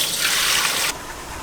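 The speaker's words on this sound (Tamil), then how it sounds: "1 லிட்டர் தண்ணியை இப்போ ஊற்றிக்கலாம்." Water pours steadily into a cooking pot for a village-style Hyderabadi mutton haleem, a loud, close, continuous rush that cuts off sharply near the end, leaving a quieter trickle.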